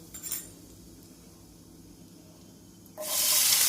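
A spoonful of asafoetida hits hot oil for a Gujarati peanut-bhajiya curry, a sudden loud sizzle that bursts in near the end after quiet clinks of a utensil in the pan.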